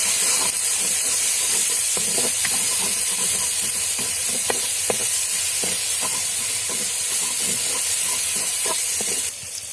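Turmeric, garam masala, coriander and chili powder are stirred into jackfruit biryani in an earthen pot, with irregular scraping clicks of the spoon over a steady loud sizzle and hiss.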